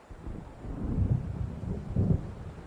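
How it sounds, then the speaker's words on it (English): Thunder from an approaching storm in the Alan Wake video game, two deep rolling rumbles about a second apart over a constant stormy backdrop, fairly loud and alone. "It seems there's a storm coming."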